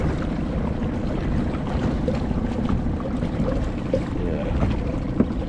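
Small motor on a kayak running out on the water, a steady, busy rumble mixed with wind and splashing close by, at a fairly even level throughout.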